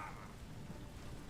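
Freezing Rain spell in the Age of the Ring strategy game, a faint, steady hiss of rain and low rumble, brief and quiet in the background.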